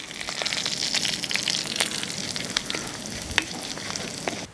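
Urad dal and curry leaves drop into hot coconut oil after mustard seeds, in Kerala-style cooking, giving a continuous close sizzle scattered with sharp crackles and pops, with no talking.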